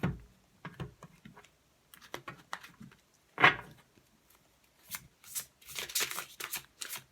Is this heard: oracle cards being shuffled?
yes